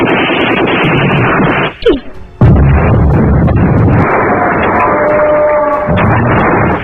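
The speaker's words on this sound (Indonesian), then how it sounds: "posisi mereka malah ketahuan sehingga baku tembak pun tak bisa dihindari" Gunfight in an Indonesian war film about soldiers fighting Dutch troops. Dense, loud, continuous rifle and artillery fire rolls on with heavy booms, broken by a brief lull, and a voice cuts in faintly.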